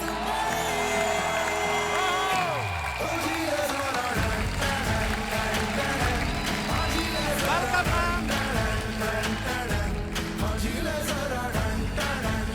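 Loud, sustained studio audience cheering and applause for actress Kajol on a comedy talk show set, with whoops and shouts over music that shifts partway through.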